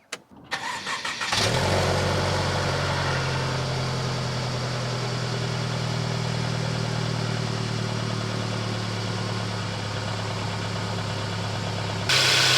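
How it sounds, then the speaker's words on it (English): A car engine, either a Mercedes or a Toyota, cold-starts with a short cranking burst and catches into a loud, steady idle that holds close and even for about ten seconds, with no talking. "Let's try an engine cold start for both the Mercedes as well as the Toyota now."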